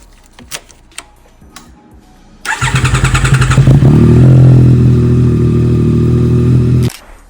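A Yamaha R9 motorcycle fitted with a Yoshimura full exhaust system cranks with a rapid starter chatter, then fires and settles into a loud, steady idle before cutting off abruptly. A few light clicks come before it.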